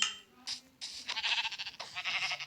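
A few nasal bleats from a goat in a video game, short and fairly close, with a faint background tone and no speech.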